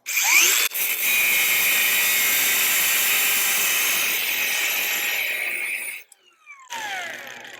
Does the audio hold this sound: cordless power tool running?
yes